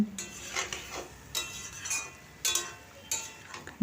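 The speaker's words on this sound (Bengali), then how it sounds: "এরপর আমি একটু কষে নিলাম" Ridge gourd is stirred and sautéed in a pan, with a spoon scraping and clinking against the metal in four or five distinct strokes over a soft sizzle, close and alone.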